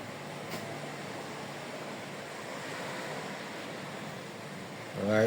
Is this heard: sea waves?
yes